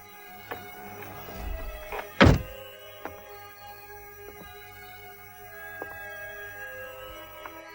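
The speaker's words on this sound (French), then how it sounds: "Bobby, ferme ce cercueil" A coffin lid thuds shut once with a heavy, hollow wooden knock, loud and near, set among faint scattered creaks and taps in a quiet room.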